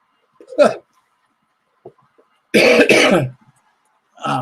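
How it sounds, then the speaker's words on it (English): A couple of short, harsh coughs from a cold close by, separated by silence, followed by a brief burst of voice at the end. "that cold that's going around that has this awful cough"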